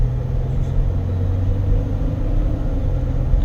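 A 2023 Jeep Gladiator EcoDiesel pulls away gently through first and second gear, heard as a steady loud low engine rumble from inside the cabin without any clear gear change.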